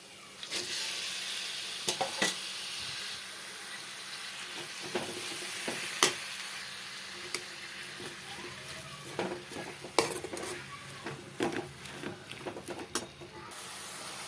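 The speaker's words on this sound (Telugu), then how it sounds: "ఇవన్నీ బాగా కలుపుకొని బాగా వేగనివ్వాలి." Spinach tipped into hot oil in a pan and stirred for palak onion fry: a constant close sizzle with scattered scrapes and clicks of the spoon against the pan, no talking.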